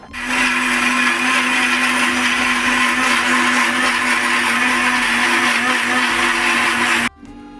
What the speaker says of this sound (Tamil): இதை துவையல் மாதிரி கட்டியாக அரைக்க போகிறோம்.